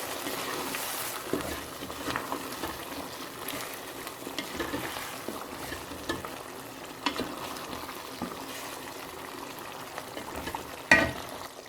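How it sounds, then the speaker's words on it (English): Lamb pieces frying in curry sputter with a continuous soft sizzle and bubbling over a medium flame, with occasional faint clicks of movement and one sharper knock near the end. "Now I've added the mutton into it, the lamb pieces, and it's cooking"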